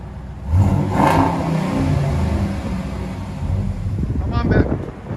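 A 2012 Dodge Ram with a 5.7L HEMI V8 and Flowmaster Super 10 true dual exhaust revs outdoors, a deep steady rumble swelling with throttle blips, heard amid wind buffeting on the microphone.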